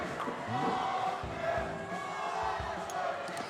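At a national seniors' bowls final, a crowd cheers and rouses itself for a player. The voices swell and chant at close range, with loud, continuous cheering and calls mixed together for the whole stretch.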